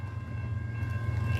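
CSX freight train rolling past in downtown Fostoria, Ohio, a steady, fairly close low rumble with a faint mechanical hum layered above, holding constant throughout with no voices.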